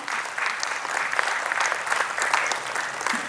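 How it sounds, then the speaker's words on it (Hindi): Audience at an annual award ceremony applauds to welcome the chief guest, a dense, continuous burst of clapping from many people, loud and steady throughout. "एक बार तालियों के शोर के साथ हम सभी स्वागत करते हैं।"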